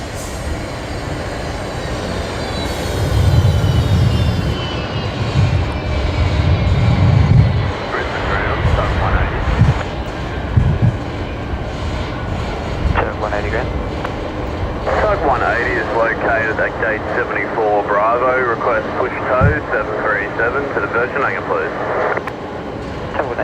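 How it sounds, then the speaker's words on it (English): Qantas flight 938 from Perth landing on the left runway at Brisbane Airport, a distant jet engine roar that swells and fades, heard under ongoing chatter from people nearby. "let's get Qantas 938 coming in now. Here on runway left. Coming in from Perth."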